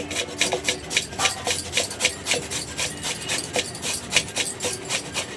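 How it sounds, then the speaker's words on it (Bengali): Cauliflower being grated by hand for paratha, a close rhythmic rasping scrape repeating about twice a second with steady strokes throughout. "তো আমাদের গাজরটা ঘষা হয়ে গেছে, ফুলকপিটা ঘষে নেব।"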